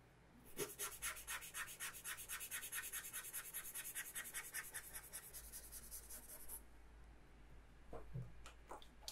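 Cotton ball rubbed across pencil shading on drawing paper to smudge it: a steady rhythmic scrubbing of quick strokes, close and soft, running for several seconds and then stopping, followed by a few faint scratches.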